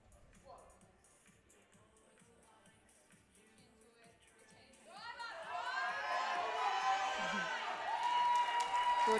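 At a powerlifting nationals meet, a crowd breaks into cheering, whoops and applause after a lifter's push, the noise swelling loud and sustained over the last few seconds after a quieter stretch of faint announcer-style talk.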